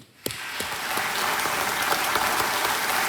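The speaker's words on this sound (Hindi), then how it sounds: "ताली बज जाए इनके लिए भाई साहब।" Studio audience on the Indian quiz show KBC breaking into applause, a sudden burst of many hands clapping that settles into a steady, dense, sustained patter, close and full with no talk over it.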